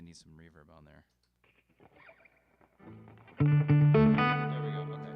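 Electric guitar played through a looper with reverb, a few sparse notes after brief talk, then a loud sustained chord ringing out with a long wash of reverb.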